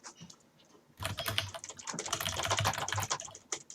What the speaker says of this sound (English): Zotan, can you stop with the typing?